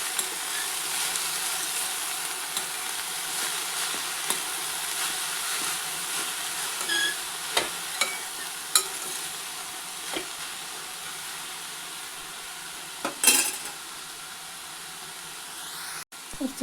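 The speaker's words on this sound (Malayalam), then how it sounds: "നല്ല രീതിയിലൊന്ന് മിക്സ് ചെയ്ത് കൊടുക്കാം." Shredded cabbage and carrot fry in a pan for thoran, with a constant sizzling hiss and scattered sharp clicks and scrapes from a spatula being stirred through the mix.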